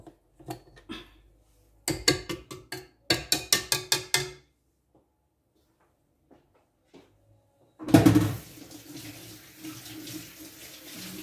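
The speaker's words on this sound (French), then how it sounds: "Je me suis rincé les mains." Hands rinsed under a running kitchen tap, a short burst of splashing water after several sharp clinks of dishes and utensils, close and fairly quiet.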